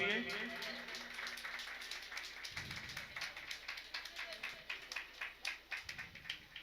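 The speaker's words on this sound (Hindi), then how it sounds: "सब तालियां हो जाए शबाना जी के लिए।" Audience applause at an award function honoring a social worker: scattered claps start mid-clip and build into a steady, moderately close round of clapping, with a speaking voice and hum underneath early on.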